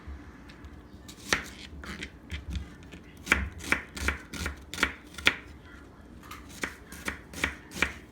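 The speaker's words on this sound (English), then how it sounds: "And we continue to cut it." A knife chops an onion on a cutting board in a run of sharp, close taps, irregular at first and then settling into a quicker steady rhythm.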